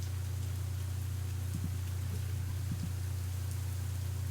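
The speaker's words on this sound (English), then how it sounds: "the rain continues to bear down on us" Soft, steady rain sound effect in a visual novel game, a continuous hiss over a constant low hum, with a couple of faint taps partway through.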